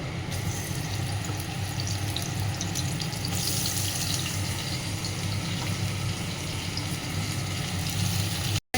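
Chopped onions with garlic and chilli frying in a kadai for kadai paneer, a steady close hissing sizzle that holds evenly throughout and then cuts off abruptly at the end, with no talking.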